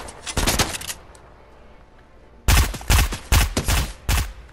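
Gunshots in the Fortnite video game crack out in two bursts: a short volley first, then a pause, then a faster string of loud, sharp shots close up, with no talking.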